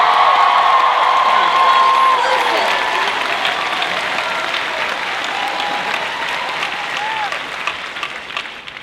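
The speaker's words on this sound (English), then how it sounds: "I think it deserves a little more applause than that." Convention panel audience at San Diego Comic-Con 2015 applauding and cheering loudly in a large hall, a dense steady roar of clapping with whoops that slowly tapers, with a voice singing over it at first.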